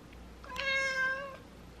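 A house cat meows once, a clear drawn-out call near the listener in a quiet room, with no talking over it.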